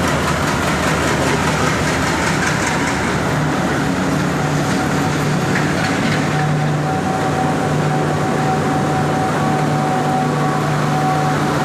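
A diesel train rumbles steadily throughout with a low engine drone and broadband rolling noise, a faint tonal hum running across the clip; no speech.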